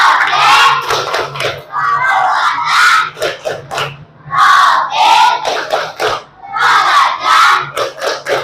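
Primary class performing a rhythmic group clap-and-chant routine during a school project lesson, loud bursts of clapping mixed with children's shouted voices in a repeating pattern.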